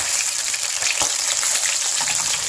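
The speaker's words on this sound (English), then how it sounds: "Salmon cooks really good in olive oil." Salmon frying in olive oil on a stove at medium heat, a steady close crackling sizzle with fine spits and pops, no voices.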